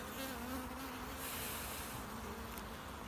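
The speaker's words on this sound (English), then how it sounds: "But there is a huge cluster of bees on here." A large cluster of honeybees on a hive frame during a hive split inspection gives a steady, dense buzzing drone that holds evenly throughout.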